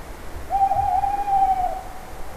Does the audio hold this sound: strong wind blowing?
no